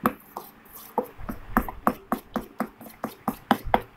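A spoon stirs slime in steady, rhythmic knocks and clicks, about four strokes a second, close and fairly loud, with no talk over it.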